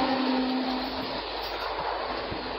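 Chennai Mail from Howrah running at speed, a dense steady roar of wheels and carriage noise heard from on board, with a faint sustained hum and occasional soft knocks, no voices.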